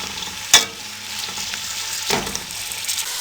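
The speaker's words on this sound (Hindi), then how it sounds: "प्याजों को मीडियम फ्लेम पे ब्राउन करेंगे।" Two large chopped onions frying in oil over a medium flame, a steady close sizzle with a couple of sharper bursts as they are stirred.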